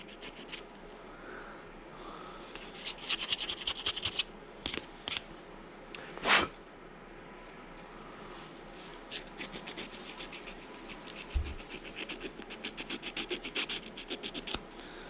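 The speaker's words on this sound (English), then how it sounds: "Just to polish it up, not to sand anything away." Fine sandpaper hand-polishes a part from a Stihl MS360 chainsaw during a rebuild, making close, scratchy rubbing strokes in irregular bursts with a few sharper knocks between them.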